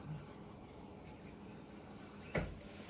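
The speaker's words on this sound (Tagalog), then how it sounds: "Kaya lalagyan ko po ito ng tubig." Filtered drinking water poured into a container at home, a faint steady trickle running under low background noise, with a brief louder splash near the end.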